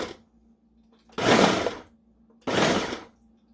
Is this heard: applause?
no